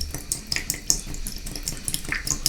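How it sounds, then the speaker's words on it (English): Water runs and splashes from a leaking Moen tub shower faucet, a close, continuous patter with small irregular drips and clinks, no talk. "this thing is leaking water every day"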